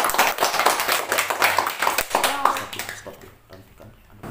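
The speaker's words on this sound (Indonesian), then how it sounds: "tepuk tangan untuk kelompok 2" A classroom group applauds another group of students, a brisk spell of many hands clapping close by that fades out over the last second. Children's voices mix in under the clapping.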